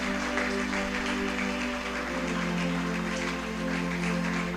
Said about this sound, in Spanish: Quiero que le des un aplauso al Señor.